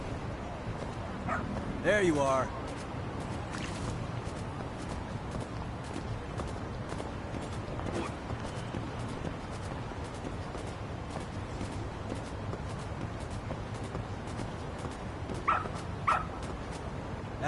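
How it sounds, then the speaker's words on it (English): A dog in the video game Lost Judgment gives a brief yip and bark early, with another short bark near the end, over steady game ambience while a voice speaks. "Good dog. Very good dog."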